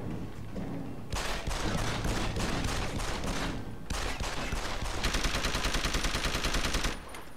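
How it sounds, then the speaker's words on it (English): Machine pistol fire in the video game Deus Ex: Human Revolution comes as loud, dense, rapid-fire bursts that run almost continuously, with only brief breaks between volleys. "The machine pistol seems kind of good"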